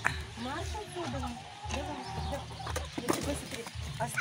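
A flock of chickens clucks and murmurs nearby in a farmyard, a busy, overlapping chatter over a low background rumble.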